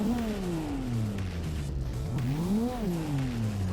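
A Volvo drifts on snow in Assetto Corsa, its engine note holding in second gear and sweeping down, then rising and falling again as the throttle is worked, steady and fairly close.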